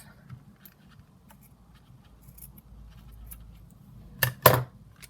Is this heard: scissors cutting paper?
yes